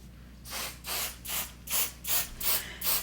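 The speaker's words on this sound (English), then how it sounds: "Now I am spraying the backing." A series of short spray-adhesive bursts onto quilt backing fabric in a steady rhythm, about seven hissing puffs close by with brief pauses between them.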